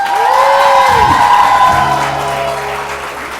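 A morning TV show's studio audience applauding and cheering, loud at first then fading, with a whooping voice near the start.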